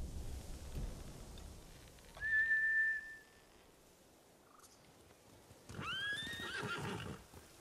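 Two horse whinnies from samurai mounts in the video game Ghost of Tsushima, a thin rising neigh early on and a louder, layered one near the end, over low rumbling ambience.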